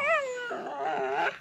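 A dog whimpers and whines nearby in a short rising and falling sequence of high, tonal cries, loud and alone.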